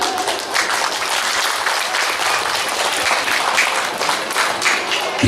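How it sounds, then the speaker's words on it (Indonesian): Sustained applause from a church audience after a parish priest's welcome speech, dense even clapping holding steady and fairly loud throughout with no voices over it. "Sekali lagi mari kita beri tepuk tangan yang sangat meriah untuk Pastor John Montelalu"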